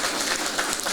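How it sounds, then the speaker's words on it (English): Audience applause at a panel event, a brief dense patter of many hands clapping, steady and moderately loud with no voices over it. "A round of applause."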